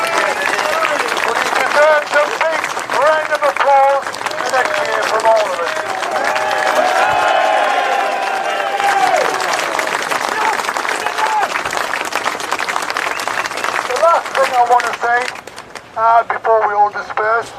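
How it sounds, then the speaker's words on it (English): Crowd at a Rolling Thunder motorcycle rally and march for veterans in London claps and cheers in a sustained wash of applause, with a voice talking over it via loudspeaker. "he deserves a big round of applause the next year from all of us"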